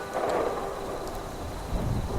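Thunder rumbles with steady rain falling in the video game Fallout 76, a continuous wash of downpour with low rolling thunder throughout.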